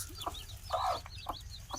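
Several hens cluck in short, repeated bursts close by, with a brief louder squawk near the middle; no talking.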